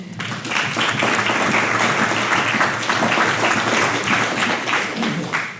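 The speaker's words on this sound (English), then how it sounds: "So give yourselves a massive round of applause" A crowd gives a big round of applause at a gathering, steady dense clapping sustained at full strength throughout with no break.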